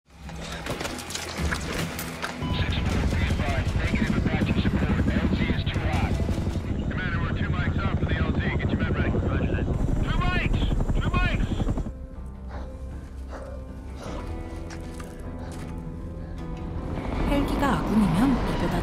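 A military Chinook helicopter in a war film scene, its heavy rotor thudding loudly and steadily for many seconds amid a dense, layered soundtrack with shifting effects and no clear talk.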